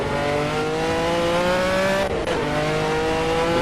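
A race car in the Assetto Corsa game at Brands Hatch drones with a steady high engine note and tyre noise, loud and continuous, dipping briefly as gears shift midway before climbing again.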